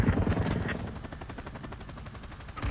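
Helicopter in the Call of Duty: Modern Warfare 2 video game, a steady rotor-like drone with rapid chopping pulses in the low end, fairly loud and continuous, mixed with gunfire-like bursts and a faint voice.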